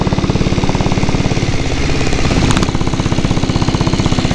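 A diesel Royal Enfield Bullet motorcycle engine pounds steadily while riding on the road to Dhanushkodi. The chugging thump is loud, close and continuous, with no talk.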